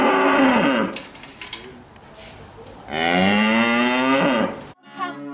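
A cow gives two long, loud, close moos, each lasting a second or more with a falling pitch, separated by a quieter stretch.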